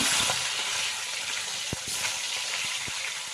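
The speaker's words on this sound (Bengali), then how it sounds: "মাছগুলো সবগুলো এইভাবে ভেজে নেব" Rohu fish pieces sizzle in hot mustard oil, a loud, continuous close-up frying hiss broken by a few sharp spatters and pops, with no voices.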